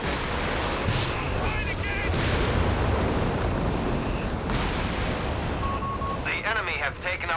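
Artillery barrages thunder in a Company of Heroes 3 four-versus-four battle, heavy booms and blasts rolling continuously over dense in-game battle noise, with a few higher tonal game alerts near the end.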